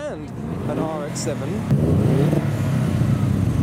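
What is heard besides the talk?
modified car engine revving in a traffic jam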